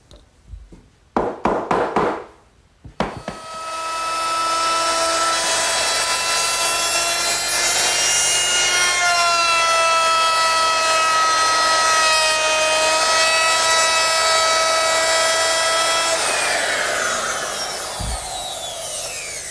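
A router fitted with a 1/2-inch radius round-over bit shapes the top edges of a wooden backsplash for a washbasin cabinet: a few taps, then a loud, steady, high-pitched whine for about thirteen seconds before it winds down.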